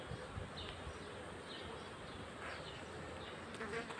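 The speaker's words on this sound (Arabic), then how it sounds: "النحل بيجيب منها كويس، بينتقل من زهرة لزهرة" Honeybees forage among clover blossoms in the open, producing a faint, steady buzzing hum close by. Brief louder wingbeat passes come and go as individual bees move from flower to flower, and no one speaks.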